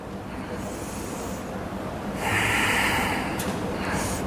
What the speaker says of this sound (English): Inhale, exhale, inhale, exhale, inhale,